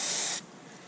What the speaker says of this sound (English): I'm going to take a clean rag and spray some carbon choke on it.